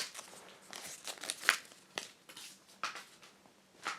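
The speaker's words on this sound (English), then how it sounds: "just going to cut this hang tag off with the waistcoat scissors" Small scissors snip a paper hang tag off a pair of Levi's 514 straight jeans, giving a few sharp crinkling cuts and rustles of card and fabric spaced irregularly, close and fairly quiet.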